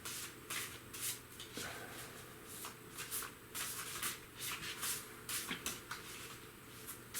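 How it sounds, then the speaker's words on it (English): A deck of cards being shuffled by hand, a series of quick riffling bursts and soft slaps repeating steadily at close range and fairly quiet, with no talking. "I'm shuffling the cards"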